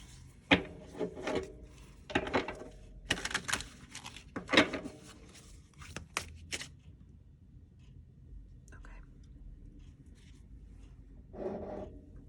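Tarot cards shuffled by hand in a run of crisp riffling bursts and soft slaps, close and clear, then a quieter stretch with light rustling and faint speech near the end.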